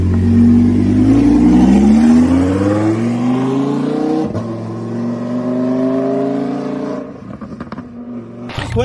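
A supercar pulls away and accelerates, its engine note rising steadily through the gears with a brief shift midway, loud and close before fading as it departs.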